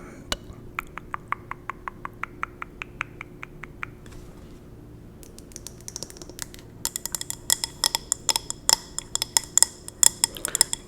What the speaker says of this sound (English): Glass has like a really nice, crisp sound to it.